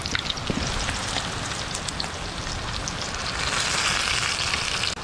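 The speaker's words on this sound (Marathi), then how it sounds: "तर हे बघा लोळ्या आपल्या चांगल्या फ्राय होतात मस्तपैकी" Fish pieces frying on a hot tava griddle give off a dense, even sizzle like rain on a surface. It is fairly loud and close, swells slightly toward the end and stops abruptly, with no voices.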